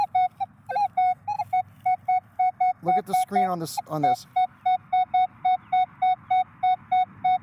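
A Minelab Manticore metal detector with its stabiliser switched off beeps in a rapid, steady series of short, bright, even pulses while sweeping over a clean target; someone talks briefly partway through.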